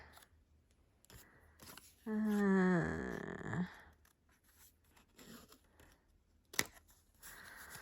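Snips cut through stenciled, ink-decorated pattern paper in one short, close snipping pass, with quiet rustling before and after.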